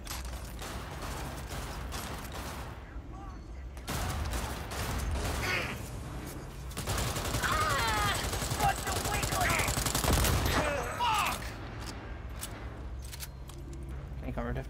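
Gunfire from the video game Cyberpunk 2077 during a night-time session in Night City, with sharp repeated shots and bursts layered over a steady game soundscape, loudest toward the middle, while voices talk through the action.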